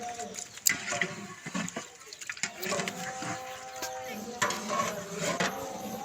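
Spiced goat meat being stirred in a large cooking pot at a village cook-out, with intermittent scraping and clinking of a utensil against the metal pot over a soft sizzle and background noise.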